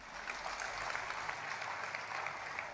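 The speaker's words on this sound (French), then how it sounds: "Applaudissez pour lui." Steady applause from a church congregation for one of its members, a dense, even wash of clapping sustained for a few seconds with no voices over it.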